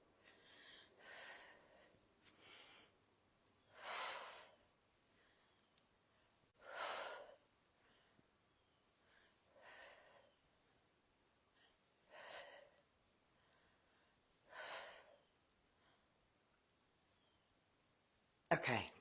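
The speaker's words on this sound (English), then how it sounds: "Breathe." Heavy breaths during a home workout come in separate loud puffs and gasps roughly every two to three seconds, close to the microphone, with quiet gaps between them and no talk.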